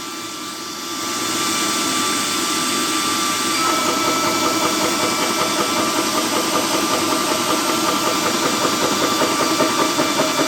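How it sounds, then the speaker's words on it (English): A Tuxing TXESO62 PCP air compressor starts up and then runs steadily, with a loud, dense mechanical drone and a rapid knocking pulse throughout. No one speaks. "They recommend to start the compressor and then close the bleed valve."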